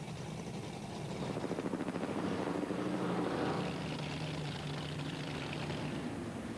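Helicopters stand by over a powerboat race in New York, a steady thrumming rotor drone mixed with roaring boat engines, loud and continuous throughout.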